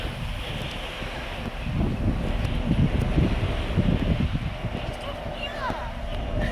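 Steady wind buffets the microphone in low rumbling gusts on a ferry deck near Belfast, Northern Ireland, with a faint broad wash of water and engine noise underneath.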